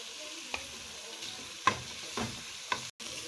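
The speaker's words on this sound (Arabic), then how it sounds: "وادي غسلنا الرز وفضيناه اهو، ونقلبه شويه" Washed and drained rice being stirred in a cooking pot for rice with peas, giving a few faint, separate scraping strokes against a quiet background.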